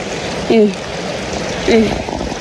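A natural stream flows in Dharan, a steady broadband rush of water running throughout, with two short voice sounds rising briefly above it.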